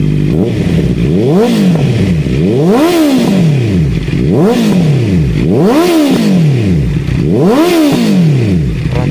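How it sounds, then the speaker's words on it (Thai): A Honda CB650F motorcycle engine revs hard again and again, four loud rising-and-falling roars in a steady rhythm, very close. "ฟังฟังเสียงตอนเบิ้ลเครื่องกันบ้างดีกว่านะครับ"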